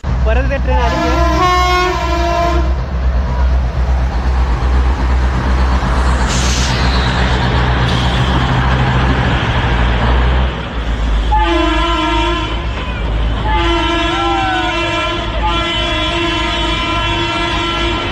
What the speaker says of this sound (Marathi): परत ते ट्रेन आली आहे.